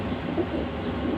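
Soft, low cooing of a silky-feathered pigeon murmurs steadily through a continuous low background rumble, fairly quiet and close.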